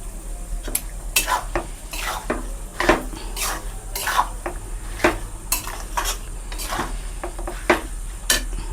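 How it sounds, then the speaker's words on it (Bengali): Bamboo shoots being tipped into a kadai with spices for pickle, a run of repeated scraping and metallic clinks as a spatula works the pan, over a faint sizzle, close and irregular throughout. "বাঁশকরলটা দিয়ে দিলাম কড়াইয়ের মধ্যে, সবগুলো ঢেলে দেব বন্ধুরা"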